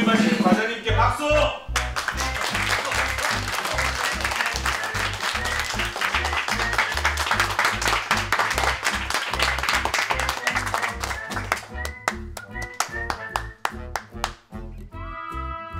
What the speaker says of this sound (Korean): 새로 부임하신 과장님께 박수!